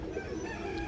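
Pigeons coo close by, a soft warbling call over a steady low background murmur during a brief moment among a pigeon keeper's birds.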